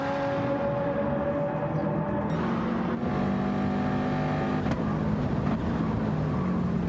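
Two rally cars, a Mitsubishi Evo and a Subaru, compete at Dragon Trail Gardens during round 6 of the ESRWTSC, with steady engine drone and shifting revs sustained throughout at moderate distance, no talk.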